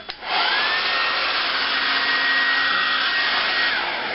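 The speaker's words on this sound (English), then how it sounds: "now I'm ready to do the blow dry" A Conair hair dryer blow-dries hair, switching on with a click and then holding a loud, steady close-up whir, with a faint high whine running through it.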